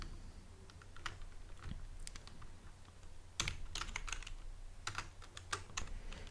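Typing on a computer keyboard with the microphone placed right in front of it, rapid clustered clicks and clacks in uneven bursts, close and crisp, with a low steady hum underneath.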